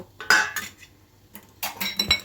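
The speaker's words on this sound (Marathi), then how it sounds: "आता मी ते झाकण काढत आहे" A lid comes off a pan of potato bhaji cooking over steam, giving a few close metallic clinks and scrapes of cookware in short separate bursts, with no talking.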